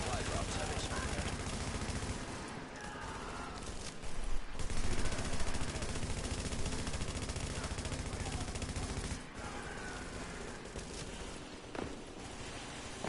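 Dense, continuous automatic gunfire rattles through a Dark Zone firefight in The Division, with bursts from several weapons overlapping and a louder spell around four seconds, while players talk over the shooting.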